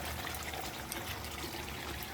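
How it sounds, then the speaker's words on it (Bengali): Refined cooking oil pours into a pan for frying, a steady close trickling stream that runs on without pause for a couple of seconds, with no talking. "এখানে আমি রিফাইন তেল দেব, গরম করব।"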